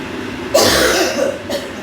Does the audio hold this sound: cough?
yes